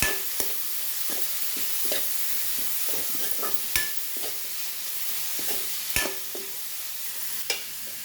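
Shredded cabbage fries in a pan for spicy cabbage rice, a soft continuous sizzle punctuated by sharp, irregular knocks of a spoon stirring against the pan.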